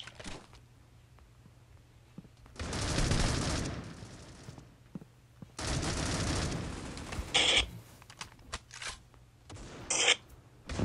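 Bursts of AUG assault-rifle fire from the mobile shooter Critical Ops, two long sustained volleys followed by shorter sharp shots, fairly quiet and without talk.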